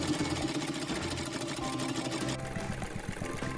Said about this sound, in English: Use sparkling fabric of four colors to sew a pillow.